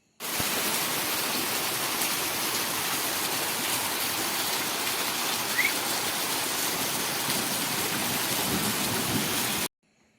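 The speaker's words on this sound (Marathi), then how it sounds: "छपरावरचे पाणी पावसाळ्यात पन्हाळ्यातून धबधब्यासारखे कोसळले" Heavy monsoon rainwater pours off a roof through a gutter and splashes in a dense, steady roar, loud and continuous throughout before cutting off abruptly.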